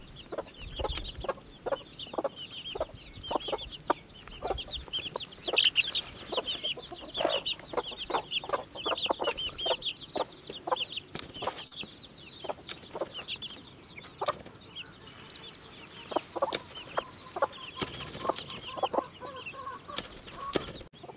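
Broody hens on a mountain homestead in Wyoming cluck repeatedly in scattered, irregular bursts at moderate distance, with faint outdoor ambience and no talking.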